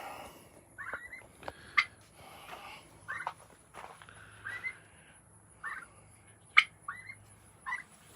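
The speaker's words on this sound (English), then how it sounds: "Beautiful red bourbon turkeys" Red Bourbon turkeys, toms and hens together outdoors, give a string of short gobbles and calls at moderate distance, spaced irregularly, with a couple of sharper louder bursts standing out.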